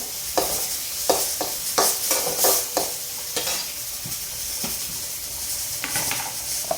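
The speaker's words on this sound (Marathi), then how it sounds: "तर थोडा कांदा परतून घेऊ" Onion sautéing in a pan while a green moong dal curry is cooked, a steady close sizzle broken by repeated sharp scrapes and clinks of a spoon stirring against the pan.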